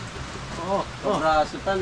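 Steady rain falls as a continuous hiss under close, lively conversation in Tagalog.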